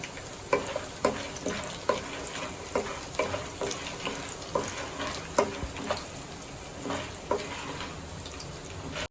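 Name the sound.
peanuts frying in oil for tamarind rice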